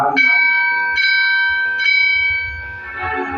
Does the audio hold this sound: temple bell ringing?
yes